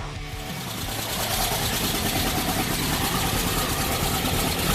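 A 1968 Baja Bug engine idles steadily up close, a continuous mid-pitched rumbling drone that settles in after the first half second and runs alone without talk.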